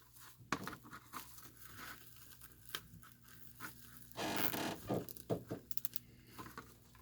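Plastic zip ties rasp and crinkle as they are pulled tight around a handmade poinsettia wreath, giving soft scattered ticks and one longer ratcheting burst, close up and fairly quiet.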